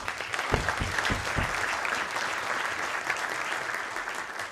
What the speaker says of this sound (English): a huge round of applause for